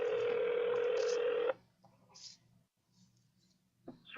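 A telephone line tone holds steady for about a second and a half while a call back is placed, then cuts off, leaving faint clicks and a low hum.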